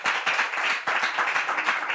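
A live audience at a Bible quiz final bursts into steady, dense applause, many hands clapping together at full strength for the whole stretch, with no voices rising above it.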